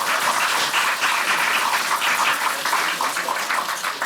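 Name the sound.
audience applause at a political reform caucus launch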